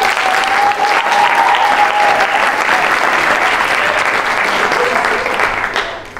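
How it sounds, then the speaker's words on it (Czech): Audience applause at a celebration of ten years of a writing seminar, a dense, loud burst of clapping from a crowd that holds steady for several seconds before tapering off. "mali zaznieť dva potlesky, čo zaznieli"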